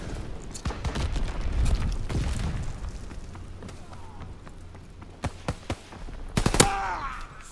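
Call of Duty WWII gameplay with bursts of rifle and machine-gun fire and sharp single shots, scattered and uneven, some close and some farther off, while a player's voice talks briefly in the background.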